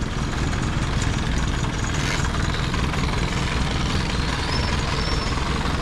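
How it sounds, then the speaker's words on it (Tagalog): A delivery truck engine runs at a steady idle, a continuous, fairly loud rumble with no pauses or rev changes and no voices over it. "Kung mga Ben, kailangan maandar yung makina kasi para yung preno"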